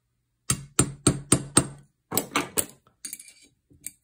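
Light, controlled metal taps land on a shotgun action during a strip-down: five quick close taps, then three more, followed by softer clinks, all without speech.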